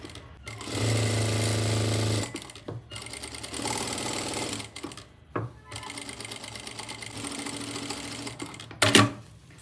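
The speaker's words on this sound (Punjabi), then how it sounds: "ਇਸ ਤੋਂ ਬਾਅਦ ਅਸੀਂ ਇਹਦੇ ਉੱਪਰ ਉੱਪਰ ਸਲਾਈ ਲਗਾ ਲੈਣੀ ਆ" Sewing machine stitching along a marked neckline on an embroidered suit, running in several loud, steady bursts separated by short pauses and a sharp clack near the end, close up with no talking.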